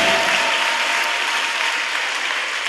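Church congregation applauding and cheering for the Lord Jesus during a morning service, a steady dense wash of clapping from many hands filling the room throughout.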